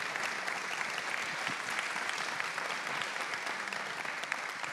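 An audience at a regional tourism panel event applauds the panelists, with many hands clapping in a steady, moderately loud roar that carries on evenly without a break.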